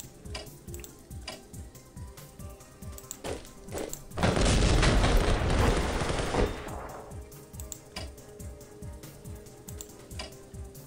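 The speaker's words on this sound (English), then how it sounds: "Artillery." Artillery fire in the WWI strategy game Strategic Command WW1: a loud, dense burst of booming blasts lasting about two seconds, standing out against a steady ticking rhythm and quiet background music.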